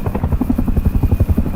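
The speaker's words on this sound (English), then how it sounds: "The effing helicopter" Loud, steady thudding of helicopter rotor blades in the video game Rust, a rapid rhythmic chop close by with a buzzing engine whine underneath.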